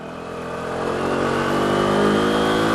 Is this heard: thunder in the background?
no